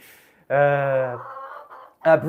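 Backyard chickens cluck and squawk close by in a few loud, tonal bursts with short pauses between them, heard on their own without talk.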